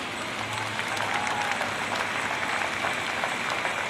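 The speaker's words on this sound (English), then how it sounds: "Folks, give it a round of applause." Crowd applause at a mini modified tractor pull in Marysville, Ohio, a steady outdoor wash of clapping from the stands, moderately distant and unbroken for several seconds.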